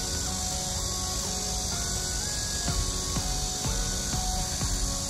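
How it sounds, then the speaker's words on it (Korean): Cicadas drone in a steady, unbroken high buzz along the Tancheon stream walking path in Seongnam on a summer day, with faint chirping calls woven through the constant hiss. "와, 매미 소리 좀 봐."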